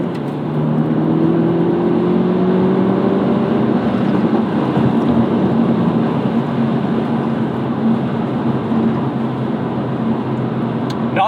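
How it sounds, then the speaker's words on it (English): A Toyota GR Corolla or Hyundai Elantra N accelerating hard with wheel hop under poor traction, a loud, steady engine roar with a rising tone early on, held continuously and close. "once we hooked up, the car accelerates pretty quickly"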